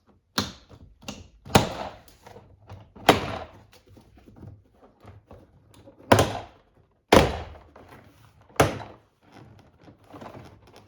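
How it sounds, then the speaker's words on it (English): Plastic trim clips popping loose one after another as a front door interior panel is pried off a 2021-2026 Toyota Sienna, a series of sharp close snaps and thunks with quieter handling noises between them. "you can just start unclipping the clips."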